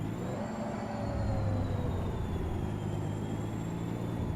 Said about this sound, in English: I don't love the way the engine sounds.